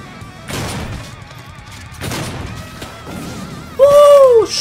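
Shotgun fire in the video game DOOM: three loud, booming blasts spaced about a second and a half apart, followed by a sharp, sweeping high tone at the end.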